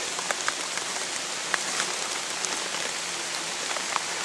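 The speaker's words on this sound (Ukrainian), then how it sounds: "Дощ." Steady rain pattering on a surface on a floodplain, a dense hiss of drops with occasional sharper individual splats, close and even throughout.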